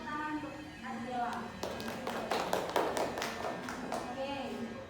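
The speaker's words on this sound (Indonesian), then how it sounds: "Beri tepuk tangan untuk Adik Ella." Children in a microteaching classroom clap for a pupil, a short scattered burst of claps framed by a teacher speaking and children's voices.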